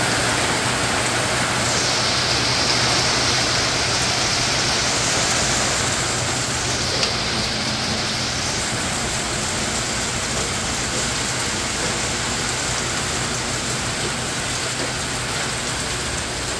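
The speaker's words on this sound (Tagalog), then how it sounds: "bumuhos na nga po ang malakas na ulan." Heavy rain pours down in a dense, continuous hiss, loud and unbroken throughout, with a faint hum underneath.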